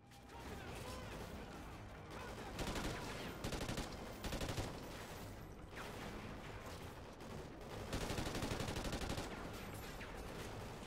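Call of Duty Ghosts gunfire rattles in dense bursts of automatic shots and impacts, fairly close and continuous, swelling in louder volleys across the stretch.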